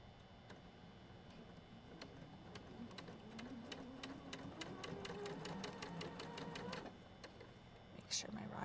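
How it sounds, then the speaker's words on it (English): A sewing machine stitches across fabric triangles on a quilt block, its needle clattering in rapid regular ticks that speed up and then stop, with faint whispered talk underneath. "You just want the machine to pull the fabric through"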